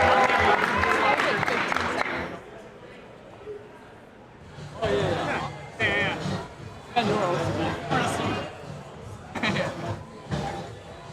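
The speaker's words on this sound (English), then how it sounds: "Let's give Libby a round of applause, y'all." Audience applause and cheering at a climbing competition, a crowd of spectators clapping in bursts that rise and fall, mixed with an announcer talking over the noise.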